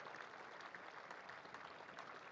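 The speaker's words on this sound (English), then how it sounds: "Applause for Anuj Dahl as he leaves" Spectators applauding a departing Derbyshire batsman at a one-day cricket match, steady scattered clapping that is faint and distant, with no voices over it.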